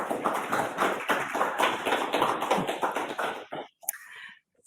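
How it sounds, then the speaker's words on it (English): Audience applause at an AUSA gathering: a dense burst of clapping that holds steady for several seconds, then thins out and stops abruptly. "Another round of applause."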